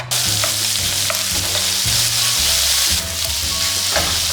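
Garlic, capsicum, red onions and green beans sizzle loudly in hot oil in a pan, a continuous close hiss with scraping stirs and clanks of a utensil throughout.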